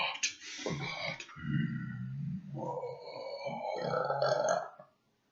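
A long, loud burp close up, drawn out over several seconds with rising and falling pitch and no talk over it, in a casual podcast setting.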